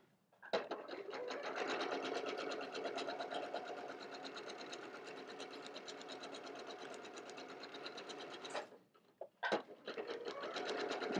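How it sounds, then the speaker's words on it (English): A sewing machine runs continuously while stitching quilt pieces, giving a fast, even mechanical whir for about eight seconds. It stops briefly, then starts again in a short burst, close and fairly quiet. "The rocking sewing machine there."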